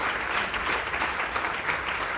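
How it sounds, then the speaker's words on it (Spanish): Dense, loud applause from a crowd of people, a continuous roar of clapping filling the whole stretch without pause, close and even in level, with no speech on top. "quería enviar un aplauso a los chavales que están aquí"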